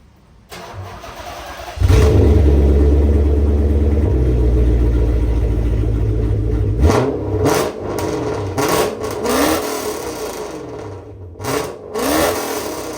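A car engine cranks and catches, settles into a loud rumbling idle through a worn exhaust before a new muffler is fitted, then gets revved several times in sharp bursts, close by with no talking.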